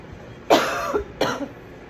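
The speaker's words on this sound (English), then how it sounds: "Let me clear my throat." Two harsh coughs, close and fairly loud, roughly half a second apart, with quiet room noise in between.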